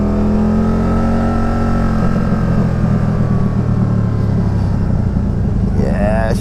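A Spyder ST-S engine with a slipped-on muffler and no tuning roars loud and steady, a deep droning rev that holds and slowly sags in pitch, with a brief rising whine near the end.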